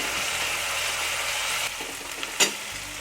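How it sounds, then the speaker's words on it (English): Ginger garlic paste and curry leaves fry in a pan, a continuous bright hiss of sizzling oil that dips briefly midway, then a short sharp scrape or stir near the end. "I'll add ginger garlic paste to it. The raw smell should get out of it."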